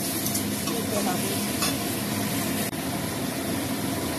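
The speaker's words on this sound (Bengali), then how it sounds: "পেঁয়াজটা একটু ভাজা ভাজা হয়ে গেছে, এর মধ্যে আমি চিকেনটা দিয়ে দিলাম। চিকেনটা একটু নেড়ে ছেড়ে" Chicken pieces stirred in a pan of lightly fried onions, giving a steady loud sizzle with scraping stirs throughout and a brief dip near the end.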